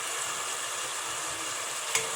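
Onions and garlic fry steadily in oil, a dense continuous sizzle and crackle close up, with one brief scrape near the end.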